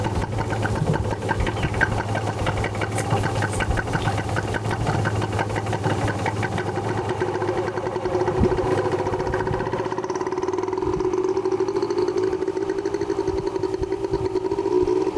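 Motorcycle engine idling steadily nearby during a riding lesson in Rwanda, a continuous rough putter with a low throb that shifts in pitch toward the end.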